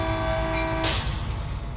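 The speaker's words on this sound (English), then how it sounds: "High-speed train, no stopping." High-speed train in Train Sim World 3 running at about 79 mph without stopping, a steady loud rumbling roar with a sustained whine, building into a brief rushing burst partway through.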